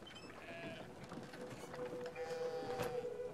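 Sheep bleating in the video game Brothers: A Tale of Two Sons, a few wavering bleats over creaking wheel-like mechanism noise, moderately close and fairly quiet.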